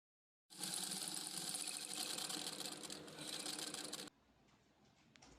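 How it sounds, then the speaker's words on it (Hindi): Sewing machine stitching elastic onto palazzo pants at half an inch: a steady, close mechanical whir that starts abruptly, runs for about three and a half seconds, then cuts out to faint room noise. "यहाँ पे आधे इंच पे स्टिच कर लेंगे।"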